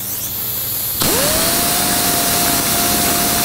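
A Sioux Tools RO2512 random orbital sander starts up and then runs steadily with a loud, even whir and a rising pitch that settles, held lightly against the work with no talking.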